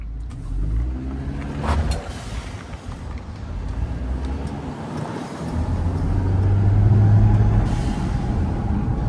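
An Acura RDX accelerates while driving, its engine and road noise building steadily louder toward the end, heard from inside the car with no talk.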